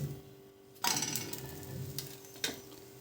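Wholewheat tortilla cooking in a hot pan just after flipping with a metal spatula, a soft sizzle under two sharp scraping clatters of utensil on pan, quiet and close.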